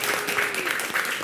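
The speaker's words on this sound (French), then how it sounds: "Et on vous raccompagne encore avec des applaudissements." Audience applause at a Christmas family gathering in a hall, steady dense clapping across the brief stretch with voices faintly mixed in.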